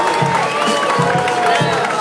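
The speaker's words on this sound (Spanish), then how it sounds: "Un aplauso fuerte para las representantes de la belleza gay latina 2011" Crowd noise of clapping and cheering for contestants at the Belleza Gay Latina 2011 gay beauty pageant, a steady wash of applause mixed with tonal music, with no clear break across the moment.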